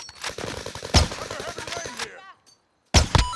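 Gunfire in Call of Duty: Warzone on the Caldera map, several sharp close shots in bursts mixed with voice chat, a short silent gap, then a loud final shot.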